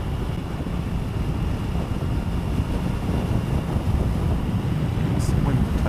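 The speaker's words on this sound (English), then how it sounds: "There is a lot of wind around my shoulders though, compared to my Versys" Steady, loud wind buffets the rider's helmet and shoulders aboard a 2014 Triumph Tiger Sport motorcycle, a dense unbroken rush with low rumble that persists throughout without any voices.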